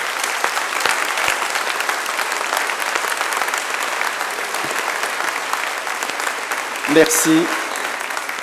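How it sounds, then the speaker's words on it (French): A seated audience stands and applauds representatives of the Muslim community and the secretary of the Vauréal mosque, steady dense clapping filling the room throughout, with a brief spoken thank-you near the end. "Vous vous levez, on va les applaudir aussi fort"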